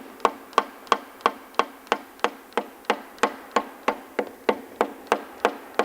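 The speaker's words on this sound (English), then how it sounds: "And tapping the piston down into position." Steady, evenly spaced light taps drive an engine piston down into its bore, about three per second, crisp and close with a quiet background.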